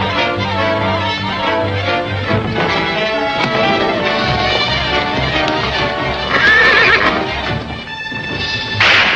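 Several horses whinnying and neighing loudly with clip-clopping hooves, amid a busy scene with shouting and crashing in an old 1939 film serial, continuous and close.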